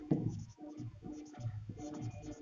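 Writing on a classroom board during a maths lesson on consecutive integers: close, continuous scratchy strokes that come in short bursts across the clip, with no talking.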